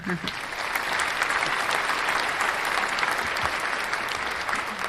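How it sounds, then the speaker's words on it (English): Sustained applause from a crowd, dense and steady for several seconds, with voices faintly mixed in. "Let me do my applause."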